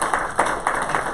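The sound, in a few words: audience applause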